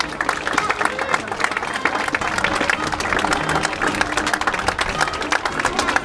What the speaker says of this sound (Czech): A my jim prosím poděkujeme za jejich vystoupení potleskem